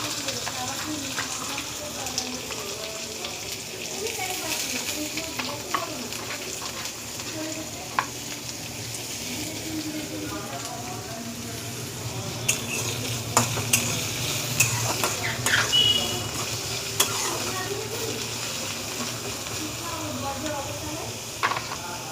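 Chopped onion goes into a pan with browned chopped garlic for a kolmi shak dish, frying with a continuous sizzle and regular stirring scrapes with occasional utensil taps.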